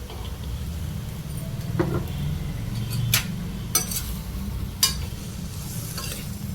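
Tomatoes with turmeric and salt cooking in a pan give off a soft, steady sizzle, with a few sharp clicks of a spoon against the pan scattered over it.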